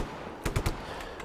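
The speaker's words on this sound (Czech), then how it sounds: "Tady někdo střílí." Gunfire in the video game Just Cause 3: a quick cluster of three sharp shots, the first lighter and the last two heavier and booming, then a faint fourth pop over a low background hum.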